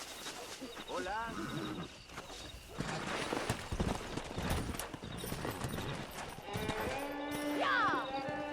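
Horse hooves clop at a steady pace in Red Dead Redemption beneath layered game music and some whinny-like sounds, and a busy mix stays dense throughout.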